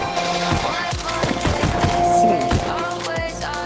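Gunfire in the VR game Pistol Whip, a rapid string of punchy shots layered over a loud, tonal game music track, close and prominent throughout the short stretch.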